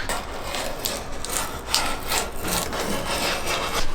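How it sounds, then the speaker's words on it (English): Steady scraping and rasping as a utility knife cuts through a dense, soft sheet of sound deadening material, with continuous rubbing strokes and no talking. "it's very easy to cut with just a normal Stanley knife"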